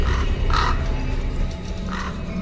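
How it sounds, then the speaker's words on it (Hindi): Crows cawing in an animated Hindi horror story, a few harsh calls at moderate loudness, with two clearer bursts spaced apart over a low rumbling background. "कौवे काव काव करते हुए रसीला और जामुन के पीछे पड़ जाते हैं।"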